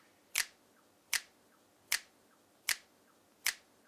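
Five sharp dry finger snaps at an even, unhurried pace, close and crisp with no plate reverb tail, each cutting off quickly into near silence.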